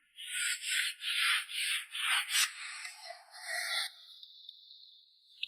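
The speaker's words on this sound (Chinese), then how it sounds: "他用美缝剂将木地板之间的缝隙再刷上一层清漆" Sealant and varnish brushed into the gaps between wooden floorboards of a simple wooden cabin shelter: about eight close, rhythmic scratchy bristle strokes that thin out toward the end, with no voices.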